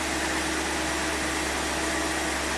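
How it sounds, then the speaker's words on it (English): A car engine idles steadily just after the vehicle is started, a constant close low hum with a broad hiss layered over it and no change in pace. "start the vehicle"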